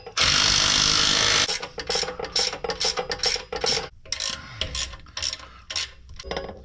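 A ratchet wrench torques a bolt in a garage: a loud mechanical burst at first, then a quick series of sharp ratcheting clicks and strokes, close up and uneven in rhythm.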